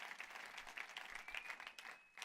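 Applause from a church congregation, a dense, steady patter of clapping throughout that eases slightly near the end.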